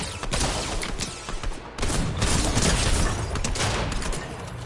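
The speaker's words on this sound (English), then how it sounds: "They are shooting." Dense, continuous gunfire from a video game rattles loudly and steadily, a thick fusillade of overlapping shots that briefly dips and then resumes at full intensity.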